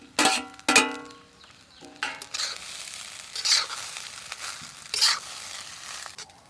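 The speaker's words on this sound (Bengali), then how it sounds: "সবকিছু একসঙ্গে ভালো করে মিশিয়ে নেব।" Fried chicken tossed with soy sauce and ground pepper in a pan for restaurant-style chicken rice, a spatula scraping and stirring in several sharp bursts over a steady low sizzle, close and fairly loud, no talking.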